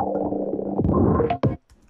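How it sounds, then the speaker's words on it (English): A gated sample in Ableton plays alone, a dense sustained texture that pumps and ducks before cutting away, with brief bursts near the end as the gate opens and closes. "I made this gate to open up and close down in the middle of the sample"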